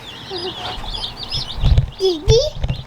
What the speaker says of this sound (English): You want to see the chickens?